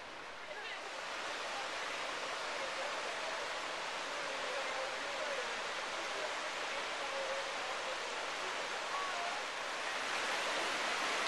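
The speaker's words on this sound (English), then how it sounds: "Oak Creek is really flowing today." Oak Creek near Sedona, Arizona runs full after rain, giving a constant rushing hiss of flowing water at moderate distance, steady throughout without speech.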